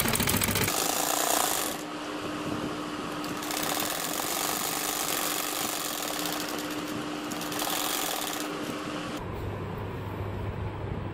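A sewing machine stitches a double bed sheet in a steady mechanical run that stops partway through, starts again, and ends near the finish, with no talk over it.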